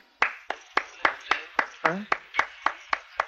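Slow, evenly spaced hand claps, about a dozen crisp and close in a steady rhythm, from a scene in a Marathi comedy film, with a brief voice between them.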